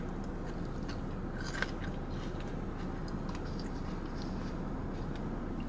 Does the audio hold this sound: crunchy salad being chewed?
yes